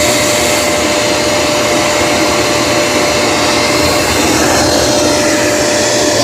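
A Eufy E28 robot vacuum and mop dock runs its dust-bag emptying cycle, and this second pass is louder: a loud, steady roar of rushing air with a constant whine. It is close and continuous, with no talk.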